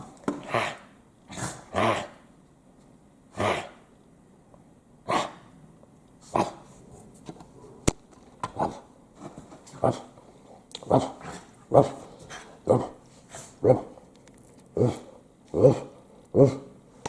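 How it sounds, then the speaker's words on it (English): A pet dog barks repeatedly, close and fairly loud, with single barks spaced out at first and then coming faster in a steady, rhythmic run. "Oh, there's the dog. She's so adorable."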